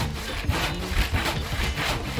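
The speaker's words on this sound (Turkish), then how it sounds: "Daha büyük bir testereyle deneyeyim. Bu hemen kesecektir." A large hand saw cuts through wood in steady back-and-forth strokes, each rasping pass loud and close, about four or five in a row.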